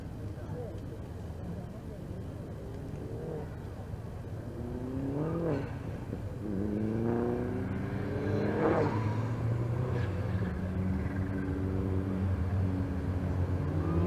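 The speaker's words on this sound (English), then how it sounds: "So we await the cars, and here they come on schedule up towards the grid." Racing cars at Thruxton circuit drive up towards the starting grid, a steady engine drone with rising and falling revs as several cars pass, heard under continuous commentary.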